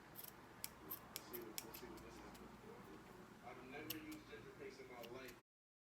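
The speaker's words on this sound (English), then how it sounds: "So now we're going to cut off the stocking cap." Scissors snip through a stocking cap during a lace frontal wig install, quiet close crisp cuts in a quick irregular series as a person talks softly over them.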